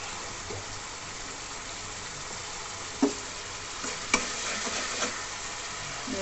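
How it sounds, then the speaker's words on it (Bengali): Water hits a hot pan of frying fish curry made with nigella seeds, green chilli and tomato paste: a steady close hiss and sizzle, broken by a few sharp clinks of utensils, with no talking. "এবার আমি জল দিয়ে দেবো।"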